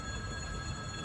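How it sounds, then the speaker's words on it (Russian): Steady low rumble with a constant broadband roar of a passing electric commuter train, wheels and carriages rolling by close at hand, no voices. "Видите, электричка."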